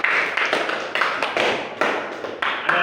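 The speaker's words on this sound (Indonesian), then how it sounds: "Tepuk tangan dulu." A classroom group claps for a student group presenting an experiment, with uneven bursts of hand claps that start and stop several times, close and moderately loud.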